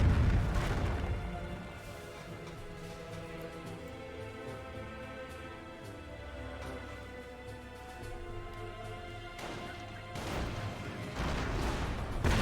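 Calliope rocket artillery barrage in Company of Heroes, a World War II strategy game, heard as a faint, steady rumble of distant explosions with a few sharper booms near the start and end.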